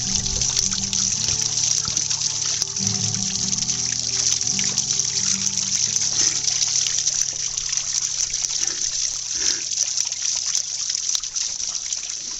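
Water trickles out of a rock above the Glens of Antrim in a steady close dribble, bright and continuous throughout with small gurgles.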